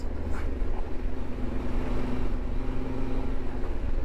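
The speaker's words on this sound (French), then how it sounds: "J'ai la moto qui part un peu." An off-road motorcycle rides on a sandy track across an agricultural plain, its engine a steady low drone with wind rumble throughout, loud and continuous with no pauses.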